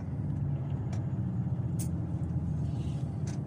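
A truck's automatic braking engages while it pulls into a parking lot, heard as a steady low engine rumble with brief hissing bursts over the top, close and continuous with no talk.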